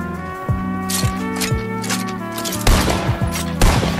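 Gunfire in Fortnite, a rapid fusillade of sharp shots mixed with mechanical clicks, loud and close, in several quick bursts.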